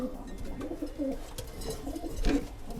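Racing pigeons coo softly in low, throaty bursts, a couple of calls standing out against a murmuring background, with no talking.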